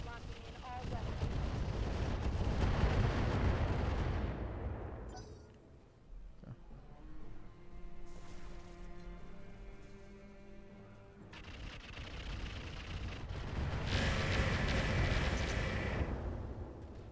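Mech weapons discharging in the Battletech Roguetech mod: a heavy roaring volley of blasts and rumbling fire, easing into a quieter stretch of whining tonal hum before another loud burst of fire swells near the end.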